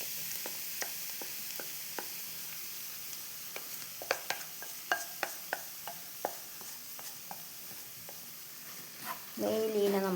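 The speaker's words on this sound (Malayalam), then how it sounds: "നെയ്യിലീനെ നമുക്കൊന്ന് ചൂടാക്കിയെടുക്കാം." Sesame mixture heats in ghee in a pan over low flame, giving a soft steady sizzle punctuated by sharp clicks of a spoon stirring and scraping, with a louder burst of frying near the end.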